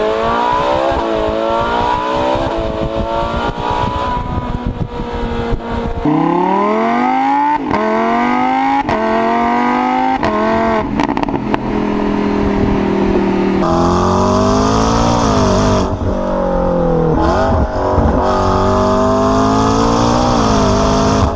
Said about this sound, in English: The exhaust note leaves something to be desired compared to its naturally aspirated competitors.